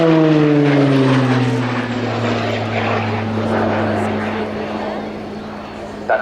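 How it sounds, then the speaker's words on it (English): An RAF Tucano T1 with its uprated Garrett TPE turboprop engine roars loudly overhead at an air display, a strong whining propeller drone that slides downward in pitch as the aircraft passes and then recedes. "That distinct noise you'll hear throughout the display is the uprated Garrett TPE turboprop engine fitted to the RAF Tucano by Shorts in Belfast."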